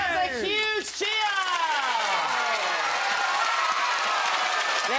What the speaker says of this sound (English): That's a huge cheer.